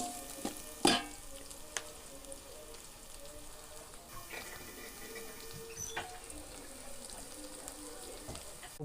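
Small shallots and large onions sautéing in a pan for a village-style rock fish curry, a steady low sizzle with occasional stirring scrapes and a sharp clatter near the start.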